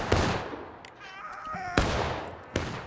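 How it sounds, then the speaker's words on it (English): Musket fire in a Civil War battle game, a few sharp separate cracks spaced over a few seconds, with fainter battlefield noise between the shots. "Firing. We're shooting back and taking casualties and shooting back"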